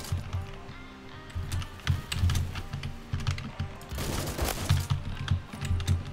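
A KSG shotgun fires in the first-person shooter Phantom Forces: a rapid, uneven series of sharp bursts and clicks, fairly dense and close, with no voice.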